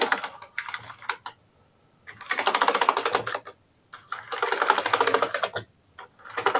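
Keys pressed on an Amiga A500 computer keyboard, dense bursts of close, clattering typing broken by short pauses, loud and alone without voices.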